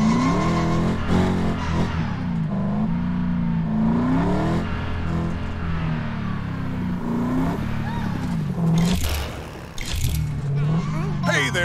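A car in a LEGO video game drives and drifts with a continuous engine whine that rises and falls as it revs, with tire noise and a voice talking over it.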